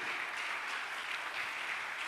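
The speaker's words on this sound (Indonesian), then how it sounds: "Kita kasih tepuk tangan buat Yesus kita ya." Students at a high school fellowship retreat applaud together, a steady wash of clapping hands that holds evenly throughout the short stretch.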